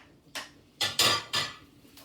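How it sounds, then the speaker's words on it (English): Sausage bites are stirred around a hot frying pan, giving a few sharp scraping and clattering knocks of the utensil against the pan over a faint background sizzle, with no talking. "now you're going to fry off your sausage bites for about a minute, 2 minutes, just until you brown them"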